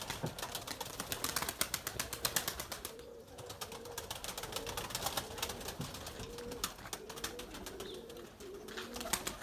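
Rapid, fluttering pigeon wingbeats come in bursts alongside soft pigeon coos, close and continuous, against a busy background.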